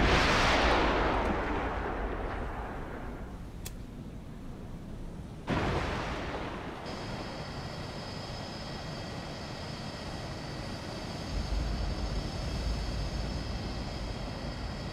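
In the submarine game Cold Waters, a missile launches with a loud roaring burst that fades, followed a few seconds later by a sudden heavy blast and a sustained rumbling wash, with a steady electronic hum underneath.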